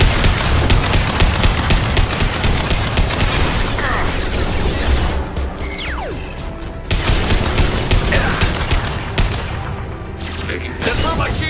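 Rapid automatic gunfire from a hacked turret in a Mass Effect 2 firefight, loud and near, with sustained bursts and short pauses. A brief electronic sweep cuts through partway and voices speak between volleys.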